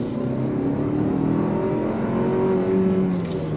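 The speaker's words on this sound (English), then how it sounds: "Power out, on throttle." A 2023 Toyota Highlander Turbo accelerates out of a turn, its engine a steady, rising drone with rumbling road noise that stays loud and close throughout.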